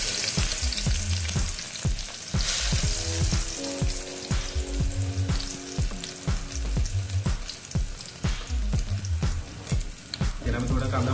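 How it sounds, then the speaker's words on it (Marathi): Chopped onion fries loudly in hot oil, a dense crackling sizzle with repeated clinks and scrapes of a spoon stirring throughout, close and busy. "पण आता तेल गरम करून घेतलेलं आहे, आपण कांदा टाकत आहे त्यात."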